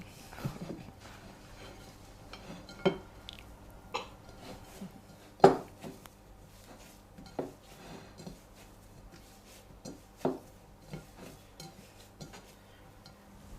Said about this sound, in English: Briony is going to mix together the cake and the icing